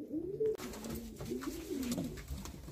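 Several pigeons coo steadily at close range in a loft, their low throaty calls rising and falling in overlapping phrases with no speech.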